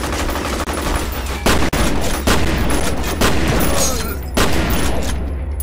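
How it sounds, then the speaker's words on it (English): Gunfire in the first-person shooter F.E.A.R.: Perseus Mandate, with loud, close bursts of rapid shots interrupted by short pauses and a few heavier booms. "Who's shooting me in the butt?"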